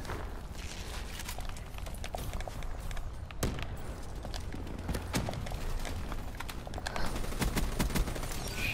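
Rapid bursts of M8 assault rifle fire in the shooter game Black Ops, dense crackling shots and clatter over a constant game background, moderately loud with no talking.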